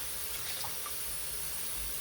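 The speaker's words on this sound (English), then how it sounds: "A little water to cover the meat" Water from a tap runs steadily into a pot of goat meat for curry, a soft continuous splashing and hiss close by, with no talking.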